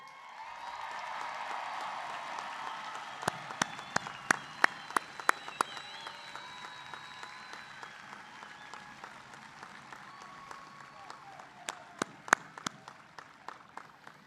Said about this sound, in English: It is so good to hear that cheer.